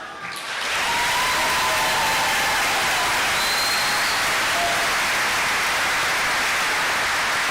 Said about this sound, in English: Could we please have a loud round of applause for our teachers who have helped our graduates reach this milestone?